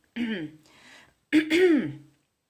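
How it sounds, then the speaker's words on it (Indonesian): A throaty cough, two short harsh bursts separated by a brief pause, close to the microphone. "sorry, agak batuk"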